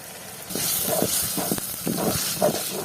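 Onions, chili, garlic, ginger and cumin sizzle in hot soybean oil for a Bengali shol fish bhuna, a steady close hiss of frying that swells and crackles throughout with no talk.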